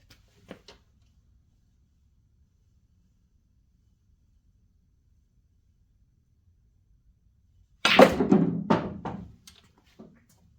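A pool shot with billiard balls on a table, heard as a quiet early tap followed by a long silence, then a loud burst of sharp clacks and a short rattle that fades away, with one faint knock at the end.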